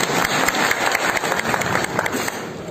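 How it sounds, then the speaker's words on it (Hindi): An audience at a film launch ceremony claps as a blessing, producing dense, loud applause. It rolls on continuously from many hands, with sharp overlapping claps throughout. "एक ताली बजा के आशीर्वाद।"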